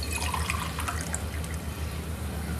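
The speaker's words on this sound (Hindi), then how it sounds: "अब हम इसमें पानी डाल देते हैं अपने अंदाज से" Water poured from a medium glass into a pressure cooker of tempered lentils for dhaba-style dal tadka makes a continuous close splashing gush that stays steady throughout.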